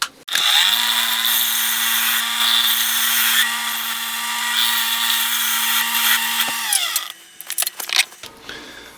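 A wood lathe turns a green-wood bowl while a skew chisel forms a foot ring, giving a loud, steady motor hum with a continuous rough cutting hiss for about seven seconds before dropping to quieter scraping and brief clatter.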